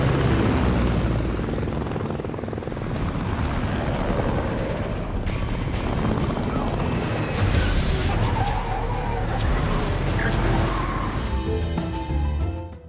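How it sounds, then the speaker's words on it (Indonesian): A helicopter flies during a pursuit, its loud rotor roar sustained throughout amid a busy action soundtrack with car noise and impacts, then cutting off sharply near the end. "Mereka tak hanya akan mengejarnya menggunakan mobil, tapi juga dengan helikopter."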